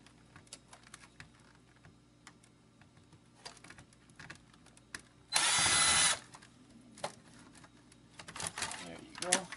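A screwdriver backs screws out of an Xbox 360 power supply during teardown: faint scattered ticks and scrapes, then a loud steady whir for under a second in the middle, with handling clatter toward the end.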